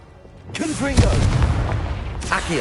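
The Confringo explosive spell in Hogwarts Legacy lands as a deep, booming blast with a rumbling tail, right after a shouted voice, and a second smaller burst follows near the end.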